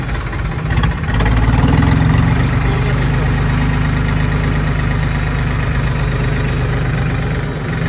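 A modified Farmtrac 60 tractor engine idles loudly and close at a Dussehra gathering, a steady deep rumbling throb that swells briefly near the start before settling into an even chug.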